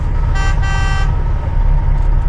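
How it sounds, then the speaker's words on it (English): A truck horn honks at a loading site to signal that hot asphalt loading is done, loud bursts over the steady low rumble of idling heavy trucks. "He'll honk like 3 times, which indicates that I'm done and then I can leave."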